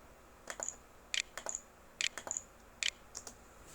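Keys on a computer keyboard tapped in short irregular bursts of crisp clicks, typing a spreadsheet title, close and alone with no talking.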